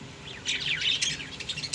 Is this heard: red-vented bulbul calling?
yes